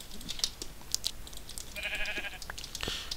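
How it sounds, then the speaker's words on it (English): A sheep bleats faintly once in the Minecraft video game, a short wavering call midway through, over low background noise with no talk. "Give me your wool, sheep."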